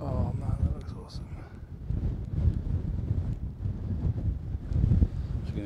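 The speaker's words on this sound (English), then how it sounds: "Hope you can hear me, it's windy up there." Gusty wind buffets the microphone on a high, exposed spot in the Peak District, rumbling steadily with louder bursts throughout and a voice talking underneath.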